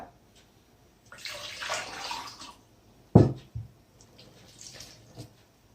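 Water poured from a half-litre glass into a cooking pot makes a splashing stream for about a second, followed by a solid clunk of the glass or pot and a few faint drips.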